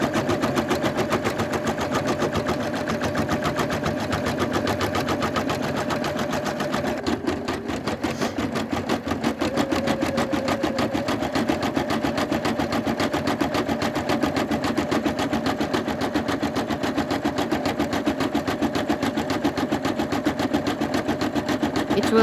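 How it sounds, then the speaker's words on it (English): Embroidery machine stitching the border around a vinyl keychain, a steady fast mechanical chatter that runs continuously and close up, with a brief shift in tone partway through and no talking. "It will do this stitching all the way around."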